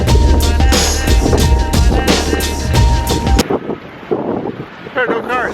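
Strong gusts of wind buffet the microphone during a New York City blizzard, loud rhythmic blasts of roaring noise that drop away abruptly halfway, leaving quieter street ambience and a voice speaking.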